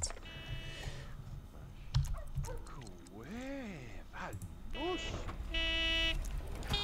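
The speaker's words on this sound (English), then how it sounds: "Drives me insane that they sit there beeping." Electronic beeping in The Sims 2, repeated short tonal beeps in separate bursts alongside warbling game sounds, with a voice talking over the top.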